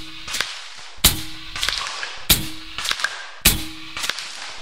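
.457 caliber air sniper rifle firing, four sharp loud cracks at roughly one-second intervals, each followed by brief mechanical clatter and a short echoing tail, close by.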